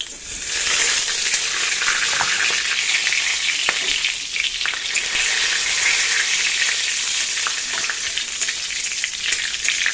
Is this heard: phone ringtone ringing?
no